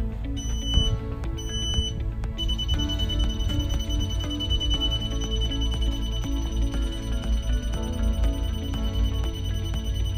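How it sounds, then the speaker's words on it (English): A GermAwayUV mobile UV sanitizer starting its cycle plays a steady electronic tone pattern continuously, with a high-pitched beep tone sustained throughout, loud and close with no talking. "it's gonna beep and it'll turn on"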